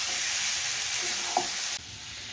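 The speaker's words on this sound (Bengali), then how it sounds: "হলুদ দিয়ে আবার কিছুক্ষণ নাড়তে হবে।" Turmeric and spices stirred through hot oil in a pan for Bengali amra chutney, a steady close sizzle with a brief scrape of stirring, the frying hiss dropping slightly near the end.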